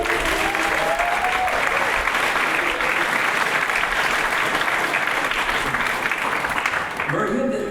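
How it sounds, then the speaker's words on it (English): A convention panel audience claps for a galaxy-themed storytelling panel, loud and continuous, with faint voices under it and the applause thinning slightly near the end. "everyone give a round of applause to Jody."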